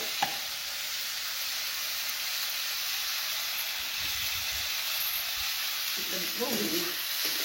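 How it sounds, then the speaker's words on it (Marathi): Cumin seeds sizzle in hot oil in a home kitchen as vegetables are prepared: a steady, fairly quiet frying hiss that continues throughout, with a brief stir or clatter near the end. "बघ आता ही तेल टाकते आणि हा हा हा जिरी टाकावं लागते."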